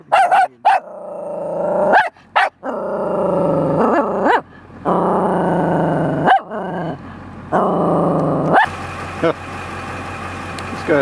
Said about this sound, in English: Big killer dog.